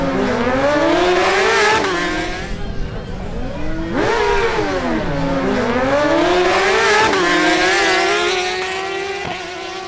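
Two Suzuki GSX-R1000 motorcycles drag racing, loud high-revving engines rising and dropping in pitch through repeated gear changes, close and dominant for the full stretch, with a commentator's voice faintly underneath.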